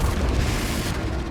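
A Confringo fire-blast spell in Hogwarts Legacy, a single loud, dense booming burst that rumbles throughout a brief moment of combat, with no talking.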